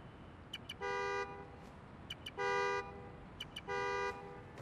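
A car horn in the video game Marvel's Spider-Man: Miles Morales, set off by a key fob, honks three times in a steady pattern, each blast about half a second long, preceded by short electronic chirps, against low background hiss.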